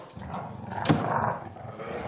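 A dog growls low and rough at close range, with a brief sharper vocal burst in the middle, and there is no talking over it.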